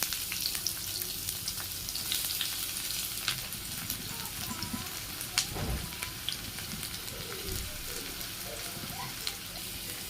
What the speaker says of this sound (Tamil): இப்போ ஆனியன் சேர்த்து இதை நல்லா வதக்கிக்கோங்க